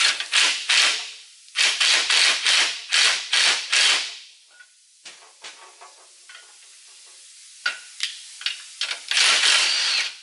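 Bolts on a DIY shelf frame for overland camping being tightened down with a power tool: several loud, close bursts of whirring in quick succession, a quieter stretch of small clicks and knocks, then another short burst at the end.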